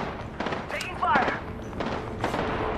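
Gunfire in the battle royale game Apex Legends on the Kings Canyon map: several sharp shots scattered across a few seconds, fairly close, mixed with other game effects while a voice talks.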